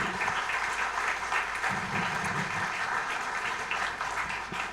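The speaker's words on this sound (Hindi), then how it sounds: "एक बार जोरदार तालियां बजाकर आप अपना स्वागत करें" Sustained applause from a ghazal evening audience in New Jersey as guests are welcomed, a steady, dense wash of clapping filling the whole stretch at even loudness.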